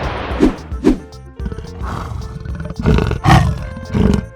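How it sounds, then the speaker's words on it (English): A leopard gives a series of deep, rasping roars and grunts, several short bursts in a row, close and fairly loud with no talk over them. "This voice is leopard."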